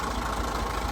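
Tractor engine idling with a steady low rumble and faint rhythmic knocking, held at even loudness throughout.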